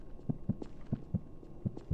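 Slow, steady heartbeat thumps in the Roblox horror game Apeirophobia, low and muffled double pulses repeating about twice a second, alone with no talking.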